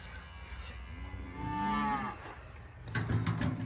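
Piedmontese calves moo at feeding time, one long clear low call near the middle and a rougher second moo near the end, close by with steady farm background.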